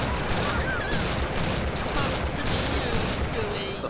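Dense, sustained bursts of gunfire from the Family Guy Back to the Multiverse video game crackle continuously, with crashes mixed into the busy barrage.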